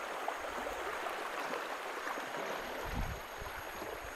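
Calm, slow-moving river water at Riverine Nature Campsite in Lenggong, Perak, giving a steady, soft rushing wash that stays even throughout with no voices.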